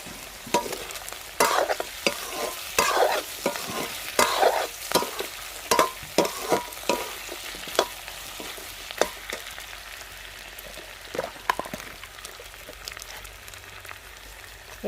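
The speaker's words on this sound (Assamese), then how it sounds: "পিঁয়াজখিনি বেছিকৈ ভাজা হৈ যায় সেইকাৰণে পিঁয়াজখিনি এতিয়াহে দিছোঁ" Onions fry in a pan for a goat meat curry, with a steady sizzle and frequent sharp clicks and scrapes of stirring, busiest in the first half and thinning later, near and without talk.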